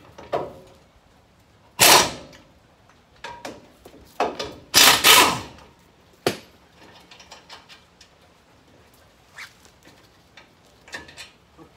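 Wrench work on the two 21 mm bolts holding a brake caliper to the hub, heard as a few loud scraping, rasping bursts of metal on metal with sharp clicks between them, close up and free of speech.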